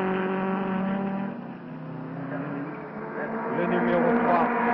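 A vintage race car at the Glover Trophy races past on the track, its engine a harmonic, droning growl that dips and then swells louder as it nears and goes by.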